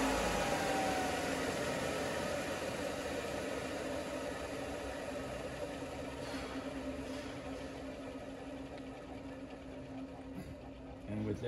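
A Kellenberger 600U universal cylindrical grinder spins down, a steady mechanical hum and whir that slowly eases in level over several seconds, with faint background noise and no clear voices.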